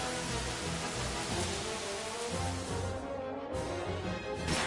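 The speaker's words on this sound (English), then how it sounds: "Acid rain." Acid Rain spell from Final Fantasy VI, a dense steady hiss of falling rain running unbroken for several seconds, with a brief dip near the end before the wash of noise returns.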